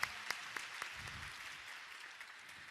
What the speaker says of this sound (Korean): 다시 한번 뜨거운 연기를 해주신 특초 드라마팀에게 격려의 박수,